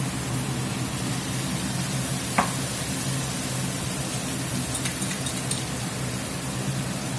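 Mushrooms sizzling in a hot skillet with chopped garlic and a splash of Worcestershire sauce, a steady broadband hiss with a few faint clinks over the top, no voices.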